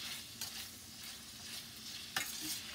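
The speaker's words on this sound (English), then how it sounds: "Now we're just going to let these sausage brown" Sausage browns in a skillet for a sausage and cabbage dish, giving a quiet, steady sizzle with a couple of soft stirring scrapes.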